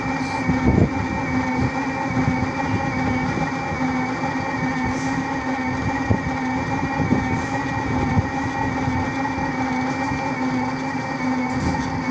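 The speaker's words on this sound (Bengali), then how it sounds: "ট্রেন হচ্ছে তো।" A train rumbles steadily past nearby, a continuous heavy drone with rhythmic clanks and a faint high whine throughout, no voices.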